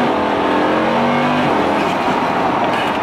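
A Lamborghini with four-wheel drive accelerates hard with a loud, continuous engine roar heard from inside the car. The pitch of the engine climbs and then shifts as the car changes gear.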